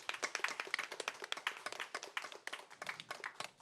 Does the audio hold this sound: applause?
yes